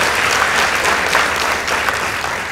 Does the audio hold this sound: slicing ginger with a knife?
no